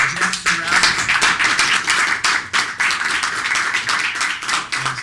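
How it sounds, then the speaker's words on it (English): Audience applause for a speaker at a DuPage County freedom rally, steady dense clapping filling the whole stretch at close range, with a brief murmur of voices near the start. "let's give a nice round of applause for Jeff Surratt."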